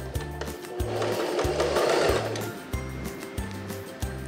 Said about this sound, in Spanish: Y cosemos con costura recta